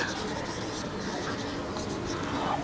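Pen scratching steadily across paper as a Bengali English-grammar lesson on tenses is written out, a continuous soft rubbing with faint strokes throughout, close and fairly quiet.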